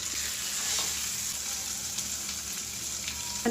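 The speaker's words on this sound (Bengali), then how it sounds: "তারা এভাবে শুধু ক্যাপসিকাম দিয়ে ভেজে নেবেন" Capsicum frying in hot oil in a pan gives a steady close sizzle and crackle throughout, with a faint stir or clink near the end and no talking.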